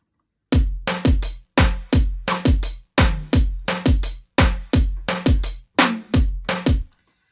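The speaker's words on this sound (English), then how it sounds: "So then the drums sound like this." A produced drum pattern from an electronic track hits hard and close, with punchy kick and snare strikes in a steady repeating groove for about six seconds, then stops. No one speaks.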